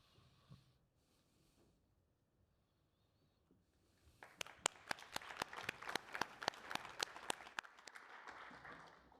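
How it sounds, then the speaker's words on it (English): Audience at an energy and climate policy conference breaks into clapping after a faint, quiet stretch, many sharp hand claps building into moderate applause that continues to the end. "Always good when people clap before you start speaking"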